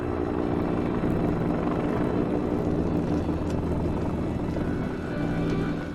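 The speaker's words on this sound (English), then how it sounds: "A helicopter dripping a flaming napalm-like gel is a favored way." A helicopter dripping flaming gel over a wildfire drones in a loud, steady rotor and engine roar that holds without a break throughout.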